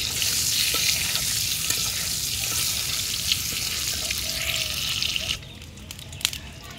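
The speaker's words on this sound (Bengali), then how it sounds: "ভাজি করতেছি।" Food sizzles and spits steadily in a hot pan in a home kitchen, a dense continuous frying hiss with occasional stirring scrapes, loud and close, easing slightly near the end.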